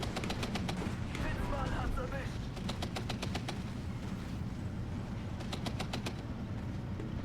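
A half-track fires in the Steel Division 2 video game, rapid automatic gunfire bursts crackling in quick repeated strings over a dense rumbling battle background, with a speaking voice underneath.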